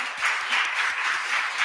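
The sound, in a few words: church congregation applauding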